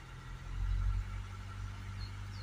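A Land Rover 2.0 Ingenium engine with an EGR insufficient-flow fault, held at a steady raised idle around 1200 RPM, gives a continuous low, even hum with a brief swell in loudness near the start and no speech.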